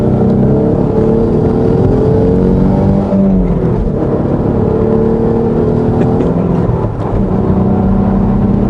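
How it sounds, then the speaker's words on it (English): Engine of an Alfa Romeo 156 with a 2.5 V6, a loud, close, continuous smooth drone with rising and falling pitch as revs change, and a brief dip near the end, with no talking. "The most impressive thing isn't even the exhaust sound, it's the actual engine sound."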